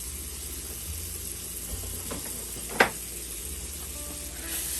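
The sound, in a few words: salted butter melting and sizzling in a pan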